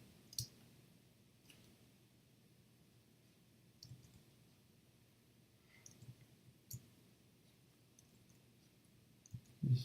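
A computer keyboard gives sparse, faint clicks, scattered single taps spread irregularly over a quiet background with no talking.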